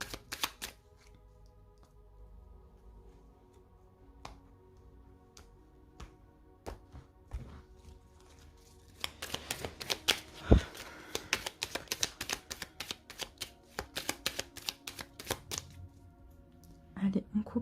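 A deck of tarot cards being shuffled and cut, starting as sparse soft taps and then turning into a quick, crisp run of riffling clicks close by, with someone speaking French between the bursts.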